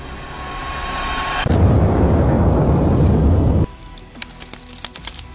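A firework blast in an animated fight smashes into a protective barrier, cracking it: a sustained loud roaring burst of about two seconds, followed by sharp crackling snaps and bangs.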